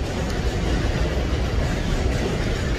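A train rumbles past on elevated tracks in the Bronx, a loud, continuous roar with steady rolling noise and no break throughout.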